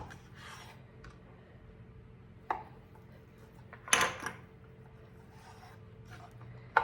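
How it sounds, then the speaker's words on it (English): Knife cutting fully cooked Johnsonville turkey sausage links into smaller pieces, quiet scraping and a few sharp taps of the blade on a cutting board at irregular intervals. "cut them into smaller pieces"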